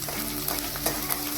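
Chopped chili pieces sauté in hot oil, a close, continuous sizzle with light stirring scrapes over a brief moment, no voices.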